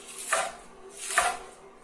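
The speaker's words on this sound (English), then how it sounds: "Coming through, chopping this." Greens being chopped for spinach artichoke dip, two distinct knife strokes landing about a second apart, close and fairly loud against a quiet kitchen background.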